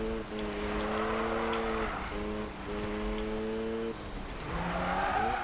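A car drifting in the 2015 Need for Speed racing game, with a steady engine drone and sustained tire squeal that shifts in pitch as the slide is held, loud and continuous for several seconds.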